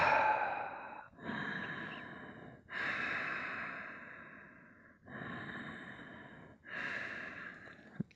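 Slow, deep breaths during relaxation in a yoga session for slipped disc problems, each long inhale or exhale sweeping in close and loud with brief pauses between, five breaths in a row with no talking.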